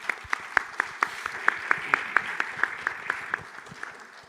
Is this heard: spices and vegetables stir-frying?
no